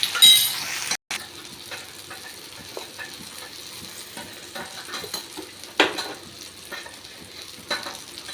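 Turkey berries (sundaikai) sautéing in a pan, with steady soft sizzling, the scrape of a spoon stirring and occasional clinks of metal against the pan.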